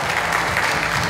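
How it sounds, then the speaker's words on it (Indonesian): Applause from an audience at a youth talk show on green education, a dense, steady wash of clapping with no talk over it. "Dan berikan tepuk tangan yang paling meriah."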